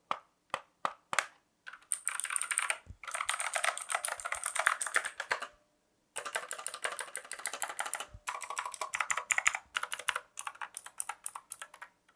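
Steady clatter of keys typed on a budget gaming keyboard up close, in quick runs broken by brief silent pauses, with a few isolated taps at the start.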